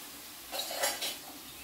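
A spoon scrapes and clinks against a pan while onions fry for garlic chicken, two or three brief metallic stirring strokes over a faint sizzle, close by and alone.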